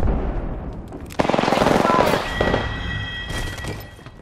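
Rapid automatic gunfire from a shooter video game, loud bursts of weapon fire running through most of the stretch with shorter cracks and a few trailing booms, no talk over it.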